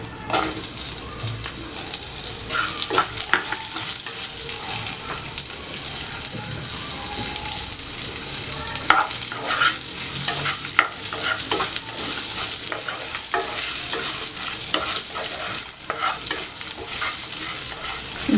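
Chopped onions sizzle in a hot pan of oil for a mint ginger chutney. A steady, close hiss runs throughout, with scattered crackles and the scrape of a stirring spoon, and no voices.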